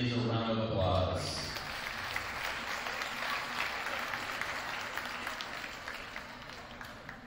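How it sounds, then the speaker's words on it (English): Applause for high school women's varsity volleyball players in a gym, fairly loud at first and then thinning to a steady patter of clapping from the crowd, with faint voices underneath. "Please give these ladies a round of applause."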